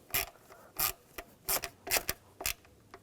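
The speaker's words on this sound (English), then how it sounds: "Put the screws in. Tighten down the screws." Screws are tightened on the MAP sensor of a 2007-2013 BMW X5 with the 3.0L straight-six, giving about eight short, close rasping scrapes in an uneven rhythm with brief pauses between.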